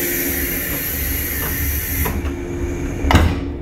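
Aboard a JNR 185 series limited express pulling into Nishi-Funabashi station: a steady close motor hum and hiss fill the car, with a few soft clunks and a louder thud near the end. No one speaks.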